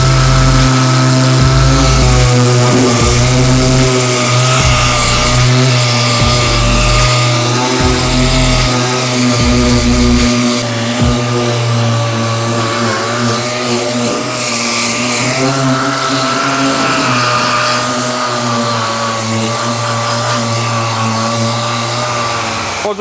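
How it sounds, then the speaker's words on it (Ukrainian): A loud, continuous whir of a pneumatic random orbital sander with 5 mm orbit and P80 Cubitron abrasive grinding steadily against a car panel, with a constant high hum and no pauses. "шліфувальної машинки пневматичної з ходом ексцентрика 5 мм"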